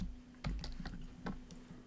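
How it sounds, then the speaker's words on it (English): Computer keyboard typing during an AutoLisp programming lecture, a handful of separate light key clicks spread irregularly over about two seconds, faint and alone against a steady low hum. "I try typing it like this"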